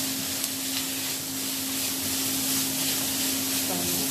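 Onion and garlic sautéing in a pan for chilli con carne, a steady close sizzle with soft stirring scrapes and a faint background hum, continuous without pause.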